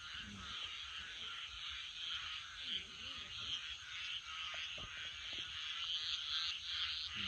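Frogs croaking at night in a faint, distant chorus, layered over dense, steady insect-like buzzing and low background noise.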